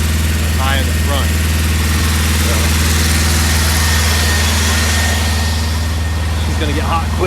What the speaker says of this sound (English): So she's gonna get hot quick revving up like that.